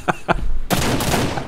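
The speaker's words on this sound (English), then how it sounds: "Some good shooting from there." Gunshots in the video game Ranch Simulator: two short muffled pops close together, then a loud, sustained burst of broadband blast noise that rings on without fading.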